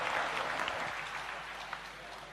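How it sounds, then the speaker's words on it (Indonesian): An audience at an Islamic lecture with Ustadz Abdul Somad applauds, a dense wash of clapping that is moderately loud and gradually thins out, with faint voices mixed in. "kita berikan aplaus ya"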